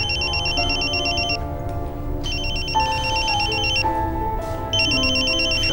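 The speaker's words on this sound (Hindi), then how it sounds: "शाजिया का फोन" Mobile phone ringtone playing a repeating electronic melody in loud bursts with brief pauses between them, heard clearly with no speech.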